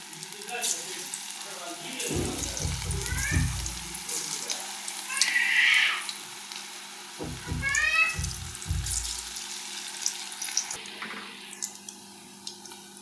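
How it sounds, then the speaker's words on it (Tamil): Steady sizzling and bubbling of drumstick pakoda deep frying in hot oil over a medium flame, continuous throughout, with occasional clinks and scraping of a utensil. "இப்படி கிள்ளி கிள்ளி போட்டு பக்கோடா பொரிக்க வேண்டியது தான்."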